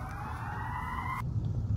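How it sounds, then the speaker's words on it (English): An ambulance siren passes outdoors, a steady wailing tone over low traffic rumble that cuts off abruptly near the end while the background noise continues. "And here comes the ambulance."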